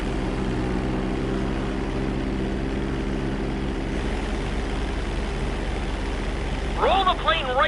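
Steady propeller-plane engine drone in GTA 5, loud and continuous throughout, with a voice briefly speaking near the end.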